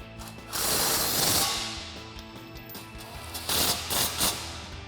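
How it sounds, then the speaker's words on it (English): A 16mm socket ratchet clicks in rapid bursts while tightening bolts on a Jeep Gladiator JT frame, with two close rattling runs separated by a brief pause and no talking. "Then we can take our 16mm socket and tighten both these up."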